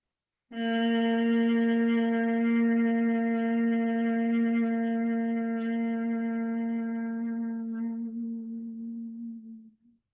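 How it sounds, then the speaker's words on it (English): A single long, steady nasal hum on the exhale, as in yoga bhramari breathing, held for about nine seconds, close and clear, fading gently as the breath runs out. "as you exhale, just gently press your lips together and hum it out"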